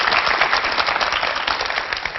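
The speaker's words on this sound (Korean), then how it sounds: "힘찬 박수 부탁드립니다." A studio audience at a Korean television lecture gives loud, energetic applause, a thick continuous roar of many hands clapping close and steady throughout.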